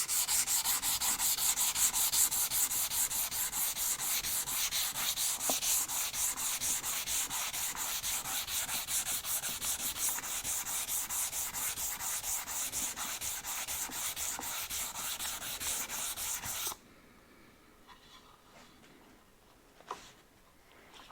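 Power sander fitted with a dust extractor working on wood, a steady buzzing rasp that runs continuously for most of the stretch, then cuts off abruptly into near quiet with a faint knock.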